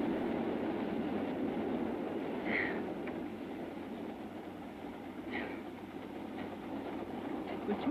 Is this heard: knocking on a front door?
no